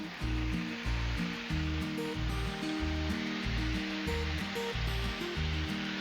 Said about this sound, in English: Let's go ahead and get our bacon going.